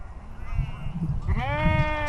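Sheep on a farm bleat in a close, loud burst of wavering, harmonic cries, with one or two animals calling over a low shuffling background.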